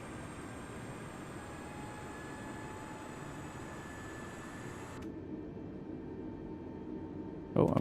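Engines of an A320neo in Microsoft Flight Simulator 2020, thrust reversers engaged during taxi, give a steady broadband roar with a faint high whine, cutting abruptly quieter near the end before a brief louder burst.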